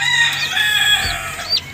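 Young gamefowl chicks from a raptor, Boston and Bruce cross peep and cheep loudly and close by in quick overlapping high calls.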